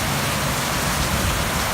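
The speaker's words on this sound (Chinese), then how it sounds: "今天突然来临一场暴风雨，然后下来了冰雹，也下了将近2个小时了。" A heavy rainstorm with hail pours down as a dense, loud, continuous roar of rain striking surfaces, with no pauses across the short stretch.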